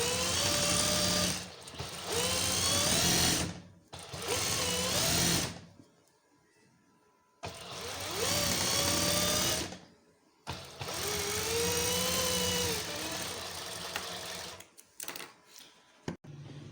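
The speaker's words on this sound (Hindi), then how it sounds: "अब ये हमने बैक के ये जो ओपन साइड थी उस पर स्टिचिंग कर दी है" A sewing machine stitches the open side of a garment back in several bursts of loud, close whirring, separated by short pauses and quiet gaps, with a sharp click near the end.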